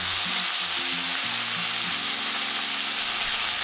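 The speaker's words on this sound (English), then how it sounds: "When the oil is hot, put the marinated beef. Spread it well. Let it cook for 15 seconds." Marinated beef sizzles steadily in hot oil in a pan during a Chinese stir-fry with bean sprouts, a loud, even hiss held throughout with no talking.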